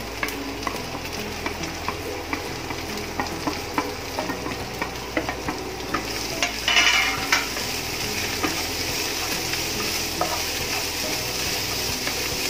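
Chopped onion frying and being stirred in a pan for eggplant bharta, a steady sizzle with repeated scraping strokes of the spoon and a brief louder burst midway, no talking.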